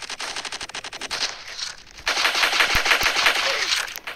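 Rapid automatic gunfire in a shooter video game, loud and close, a fast stuttering burst giving way to denser sustained firing with a few sharper individual shots mixed in, no talk.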